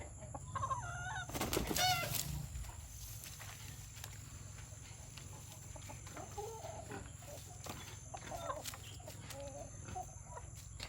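Free-range Brahma chickens settling into a new coop cluck and call intermittently, with a louder burst of crowing-like calls early on over a steady low hum.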